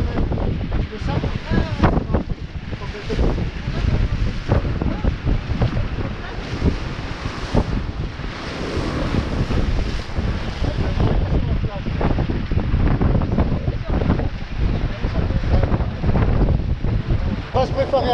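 Strong wind gusts roar across the microphone on a sailboat in heavy conditions, a loud continuous buffeting rush with water wash beneath and a voice speaking through it.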